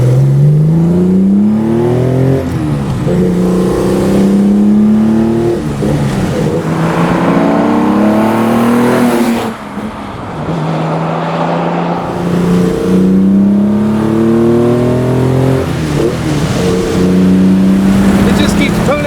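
A Jaguar E-Type's 4.2-litre straight-six revs hard from inside the car, rising through the gears in loud, climbing sweeps with brief dips at each shift, the engine note dominating throughout.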